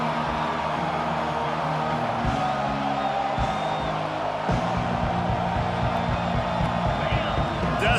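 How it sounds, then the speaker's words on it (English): A football stadium crowd at a Texas Tech versus Oklahoma State game keeps up a loud, steady roar that swells on third down, with an announcer talking over it throughout. "Decibels rising as the crowd gets behind this defense on third down."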